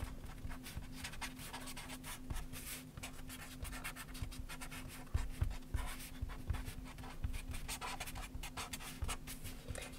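A pen scratches steadily across paper in a visual journal, close and continuous, with quick strokes and brief pauses in an irregular rhythm over faint room hum.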